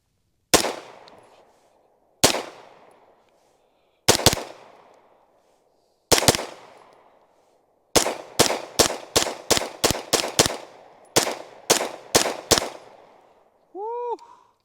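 Staccato HD P4 pistol fired outdoors: several spaced single shots, then a rapid string of about a dozen sharp, loud reports with ringing decay, ending in a brief clinking sound.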